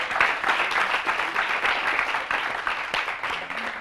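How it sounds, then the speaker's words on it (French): A school audience applauds École Lumière with steady, dense clapping from many hands that stays even and fairly loud, with a few sharper claps standing out near the end. "qu'on peut applaudir, l'école Lumière, s'il vous plaît"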